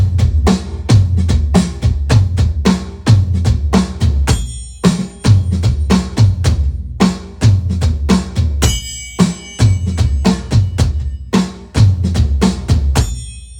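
A hybrid electric drum kit, an existing drum module paired with acoustic drums, plays a driving tom beat: rapid, punchy hits in a steady groove with short pauses, bright cymbal or bell accents, no talking.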